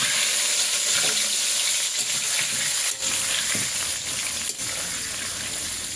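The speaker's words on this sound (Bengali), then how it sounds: "আলুগুলো ভেজে নেব" Potatoes frying in oil in a kadai on a new home cooking stove, a steady broadband sizzle lasting throughout with a few faint clinks, no voices.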